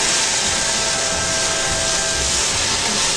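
Broccoli rabe sautéing in a pan with garlic and olive oil gives a steady, even sizzling hiss that runs unbroken throughout, with no voices over it.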